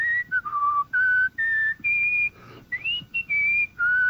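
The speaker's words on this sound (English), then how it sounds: "I began whistling the Star-Spangled Banner" A clear, melodic whistled rendition of the Star-Spangled Banner, phrase after phrase of sustained pitched notes with short breaks between them, close and alone.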